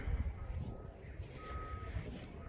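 A faint electronic warning beep from a 2020 Honda Passport Elite sounds in short tones at regular intervals over a low engine rumble, with no talking.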